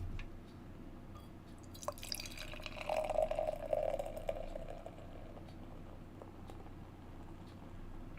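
Dark Dragon's Milk beer is poured into a Tiku snifter glass, a soft liquid trickle and splash that swells briefly in the middle over a low, steady background hum.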